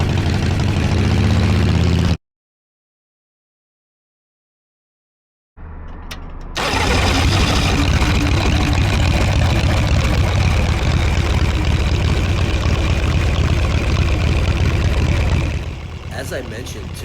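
Indian Larry's custom Chain of Mystery motorcycle fires up on its electric starter after a brief silence, then settles into a loud, steady close-up idle that runs for about ten seconds before easing slightly.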